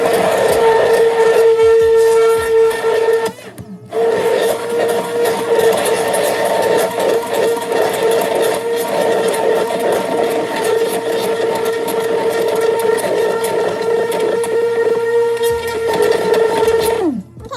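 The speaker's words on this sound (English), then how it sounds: "I'm going to go ahead and take my hand mixer, and I'm just going to mix it." An electric hand mixer whips hot-process shaving soap, giving a loud, steady high-pitched motor whine that drops out briefly near the start and then runs on continuously.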